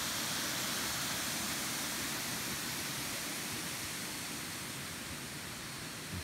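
A jungle waterfall rushes in a steady, dense roar that fills the whole stretch without pause, loud and close, with no voices or other sounds standing out above the torrent.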